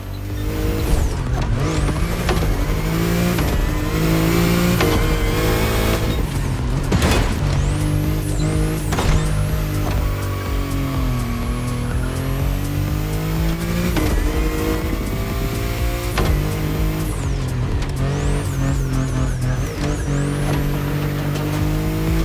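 A BMW i8 sports car in The Crew Motorfest revs hard and continuously, its loud engine tone climbing and dropping through gear changes with occasional tire squeal, close and unbroken for over twenty seconds.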